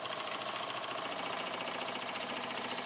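A 1914 Meccano model steam engine chugging steadily with a fast, even mechanical rhythm, close and continuous with no voices.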